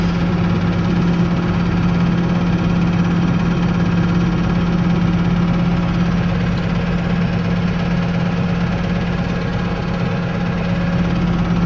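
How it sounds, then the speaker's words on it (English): Tractor engines idling outdoors at a protest against a dump, a steady loud low diesel rumble with a constant hum and slight vibration, continuous and unchanging, with no voices. "There's the tractors."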